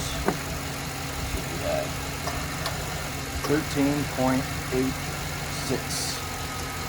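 A 2009 Chevy Silverado engine idles with a steady low rumble and vibration while someone talks over it, with a few faint clicks and beeps.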